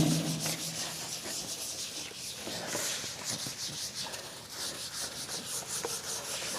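A tissue wipes across a whiteboard, a close, dry rubbing scrape repeated in quick back-and-forth strokes, fairly quiet and without speech.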